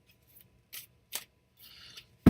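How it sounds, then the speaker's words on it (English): A deck of tarot cards is shuffled in a few brief, crisp riffling bursts separated by short pauses, close by and quiet, ending with a sharp tap. "let me finish my cleansing shuffle for you, Jing"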